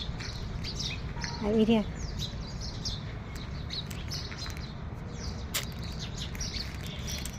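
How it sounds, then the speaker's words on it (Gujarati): House sparrows arriving at scattered feed give quick high chirps and tweets over a steady outdoor background hum, with one brief louder burst of calls and a person talking softly. "જો બધી ચકલીઓ આવી ગઈ"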